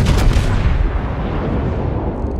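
A heavy naval gun salvo in a warship video game, a loud booming blast that opens sharply then rumbles away over about two seconds.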